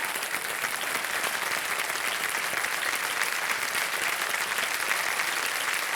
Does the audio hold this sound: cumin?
no